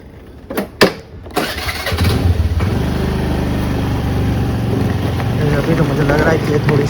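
A Honda Activa scooter, just back from a service, cranks with a few sharp clicks before its small engine catches and settles into a steady, close running hum, with a voice heard briefly.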